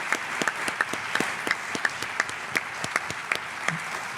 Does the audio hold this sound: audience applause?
yes